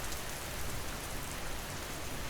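Steady rain falls continuously at an even, soft intensity, a dense wash of drops on surfaces with no voices over it.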